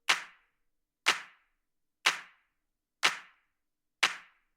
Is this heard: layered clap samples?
yes